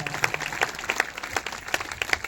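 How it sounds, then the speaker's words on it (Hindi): A congregation at a Sunday church meeting claps steadily, a lively patter of many hands applauding together at moderate volume. "अगर आए तो जोरदार तालियां बजाएंगे"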